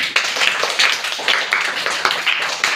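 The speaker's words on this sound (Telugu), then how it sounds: "క్లాప్స్ కొట్టండి మా బాగా రాసింది పాప" A classroom of schoolchildren claps together in a quick, steady patter of hand claps, close and lively, with a voice briefly heard.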